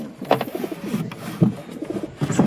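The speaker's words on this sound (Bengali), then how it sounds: "এটা নতুন পায়রা নিয়ে এসেছি, একদিন হলো" Domestic pigeons, including a newly acquired bird, coo softly and close by in several short throaty bursts with brief gaps between them.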